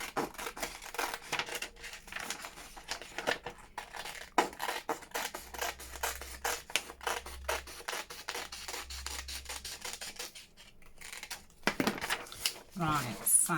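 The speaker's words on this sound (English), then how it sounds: "I need to cut the top with the smallest scissors in the world" Very small scissors snip through packaging in a rapid run of dry, rasping cuts, close and fairly quiet, with brief pauses and a short burst of rustling near the end.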